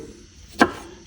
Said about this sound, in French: Je reprends mon couteau. Je le tranche en deux,